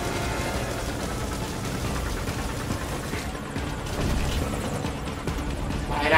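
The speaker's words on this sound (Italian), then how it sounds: "Ah, l'elicottero ragazzi" Helicopter in the video game Metal Gear Solid V: Ground Zeroes, a steady rotor drone amid dense game ambience and scattered gunfire-like noise, growing slightly louder toward the end.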